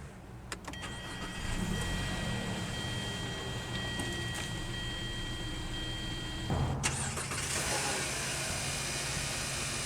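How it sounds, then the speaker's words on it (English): A 2011 Hyundai Sonata Limited midsize sedan fires up with its push-button start: a brief starter whine, then the engine catches around the middle and settles into a steady, close idle hum with no talking. "let's go ahead and start the engine"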